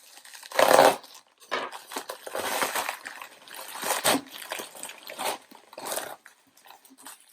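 Bubble-wrapped package being opened, with close bursts of plastic crinkling and rustling in irregular handling noises separated by short pauses, without talk.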